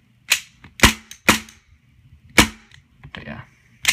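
A KJW M9A1 airsoft pistol fires about five sharp, loud cracks at uneven intervals, each with a quick slide clack, close up and mostly without talk.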